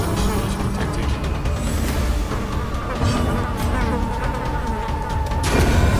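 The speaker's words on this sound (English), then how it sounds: "Really, this Mosquito music sounds in the background." A high, whining insect buzz from the Darkest Dungeon video game plays continuously over a dense, busy mix of game music and effects, loud and steady throughout.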